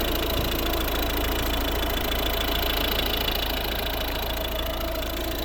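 A 2010 Volvo V50 R-Design with the D2 diesel, a single-camshaft eight-valve engine with one timing belt, idles in a steady, even, unbroken drone heard up close, with no voices over it.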